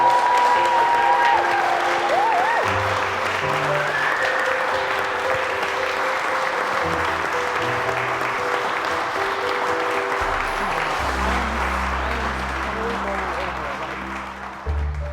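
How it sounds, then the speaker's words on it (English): Sustained applause from a studio audience celebrating the winner of a portrait painting competition, a dense steady wash of clapping lasting the whole stretch, with low musical tones underneath toward the end. "And I think another round of applause for our Portrait Artist of the Year, Callum Stevenson."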